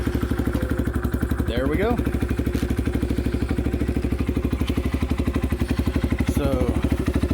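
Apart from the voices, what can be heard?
Chinese motorcycle engine starting and running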